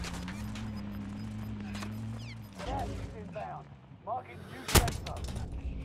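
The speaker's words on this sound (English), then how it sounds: "I think he's shooting me from the rock above" An enemy fires at the player from a rock above in Call of Duty: Warzone. Scattered game gunfire plays over a low rumble and ends in one loud, close shot, with muffled voices in the mix.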